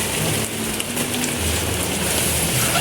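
Steady rain of large drops falling on surfaces outdoors, a dense continuous patter close by with no talking.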